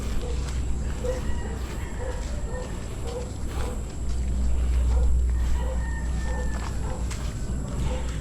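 A rooster crows at a game farm in Alaminos, Laguna, fairly distant, with other fowl clucking around it. Steady outdoor background noise and a low hum sit underneath.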